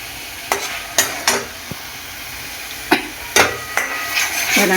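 Spiced masala and mutton being stir-fried in a pan, with a steady sizzle and several sharp scrapes and knocks of a spoon against the pot, close and fairly loud.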